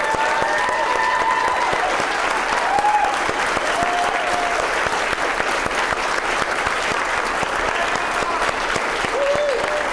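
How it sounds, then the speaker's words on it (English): Loud, sustained applause and cheering for the organizers of the Thunder Plains 2014 tech conference, a thick continuous roar of clapping with occasional whoops rising above it. "I think they deserve a big round of applause"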